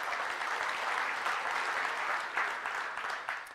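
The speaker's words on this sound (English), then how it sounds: "let's give a round of applause to Oak Ridge Online" A church congregation applauds during a Sunday morning service. The clapping is continuous and full-bodied throughout and swells a little midway, with no talking over it.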